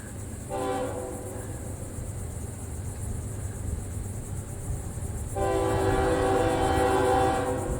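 A Florida East Coast Railway intermodal freight train with manifest cars rumbles past steadily while its horn sounds two long blasts, one short and one longer, over a constant rolling background with insects chirping.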